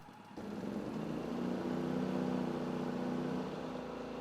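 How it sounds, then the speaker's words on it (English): A Polaris P3200iE portable generator engine starts and runs steadily, a loud, close, continuous drone with a slight rise in pitch partway through, then holding level. "Lower the generator and start the engine. Allow it to run for 1 to 2 minutes."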